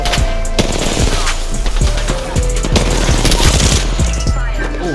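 Gunfire during an Apex Legends match, with sniper shots among loud, dense rapid shots that continue throughout without a break.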